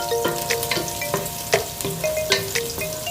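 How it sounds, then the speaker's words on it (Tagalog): Chopped garlic hits hot oil for Ilocano-style igado, crackling and sizzling loudly with sharp pops and spatter over a steady frying hiss. "Ilagay na yung bawang"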